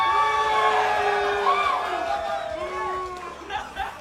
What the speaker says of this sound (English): I just had half a crowd cheer.